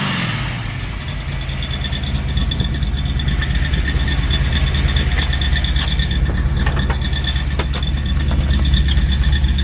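A 1926 Ford Model T hot rod engine idles with a deep, steady rumble, loud and close, holding a constant throaty drone throughout.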